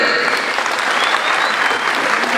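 Audience applause fills a Kenya Youth Organization launch at Bomas of Kenya, a dense, loud, steady clapping from a large crowd throughout.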